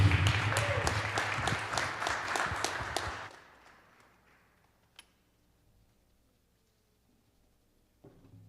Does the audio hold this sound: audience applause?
yes